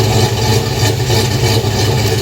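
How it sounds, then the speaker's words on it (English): A car engine with a straight exhaust and no catalytic converters idles loud and close, a continuous throaty rumble with a slightly uneven pulse and no voices. "Alright, so there's a little bit calmer idle."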